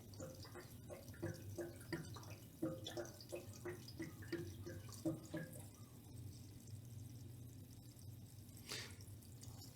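Fuel glugs and trickles as it is poured into a tractor's tank, a quiet, uneven run of liquid gurgles and drips with no talking.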